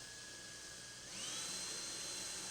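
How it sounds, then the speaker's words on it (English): Power drill boring a 3/32 inch pilot hole in a drawer front, a steady high whine that steps up in pitch about a second in and then holds, close and alone. "Measure the locations of the holes and drill a 3/32 pilot hole."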